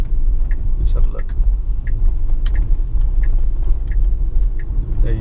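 A Tesla P90D driving on Autopilot toward a roundabout, steady low road and tyre rumble inside the cabin, with a repeating ticking indicator.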